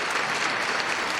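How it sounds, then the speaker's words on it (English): A short burst of dense crowd applause, steady clapping throughout with no pauses. "I just gave you a round of applause"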